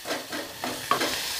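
Onions browning in a little vegetable oil inside a pressure cooker sizzle softly and evenly, with a few light stirring scrapes and a single small clink, heard close and alone.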